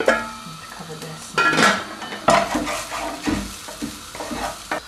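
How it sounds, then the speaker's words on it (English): Onions and garlic sizzling in a pan for a weeknight dish of black eyed beans and pasta, a close, steady frying hiss with stirring scrapes and a few louder clatters. "the onions and the garlic have been sizzling away for about 5 minutes now"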